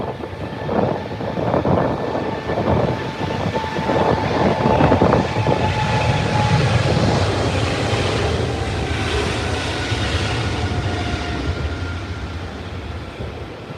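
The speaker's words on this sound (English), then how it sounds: "that's the third 777 300ER delivered to British Airways" A British Airways Boeing 777-300ER jet at Heathrow on a windy day, its engines a loud, steady broadband roar with a whining tone, sustained and close throughout as it passes.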